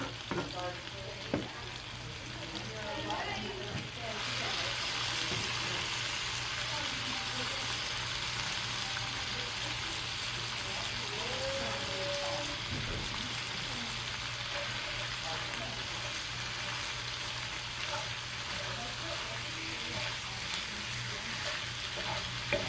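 Chicken chunks fry in a pan and get stirred around, a steady close sizzle with scraping stir sounds, growing louder and fuller after the first few seconds, with a voice briefly heard under it.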